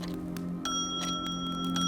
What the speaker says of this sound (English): the room is filled with the sound of two small chimes, clear and distinct